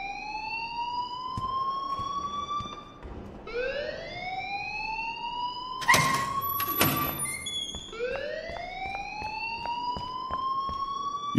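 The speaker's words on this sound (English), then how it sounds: "please turn off that alarm since that's your job" A repeating electronic alarm wails in rising sweeps in the video game Life is Strange, loud and steady across the whole stretch, with a couple of sharp thuds and bright tones cutting in near the middle.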